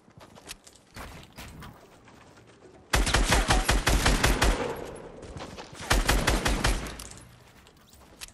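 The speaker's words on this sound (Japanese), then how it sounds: "なんか銃声が聞こえるな、さっきから。" Fortnite gunfire rattles in quick automatic bursts, with a few scattered shots first and then two dense, loud volleys of rapid fire.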